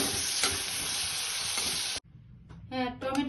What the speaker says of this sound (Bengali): টমেটো ভাজা হয়ে গেছে